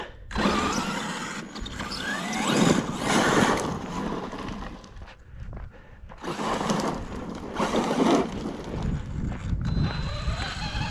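A Hobao Hyper MT RC monster truck drives a few metres through a forest while being checked for a noise, giving bursts of whining electric motor and drivetrain with rough crunching over ground, rising and easing in several passes.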